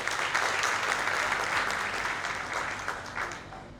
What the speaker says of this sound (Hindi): उसके लिए एक बार जोरदार ताली।